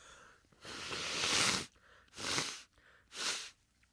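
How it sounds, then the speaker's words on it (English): A man blowing his nose, three forceful breathy blasts, the first long and the next two shorter, close and loud with brief pauses between them. "I just blew my nose and my ears popped"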